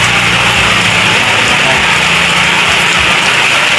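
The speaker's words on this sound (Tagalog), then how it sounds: "ang lakas ng ulan talaga, ang aga-aga" Heavy rain pours steadily in a loud, dense hiss, with a low engine-like rumble running beneath it throughout.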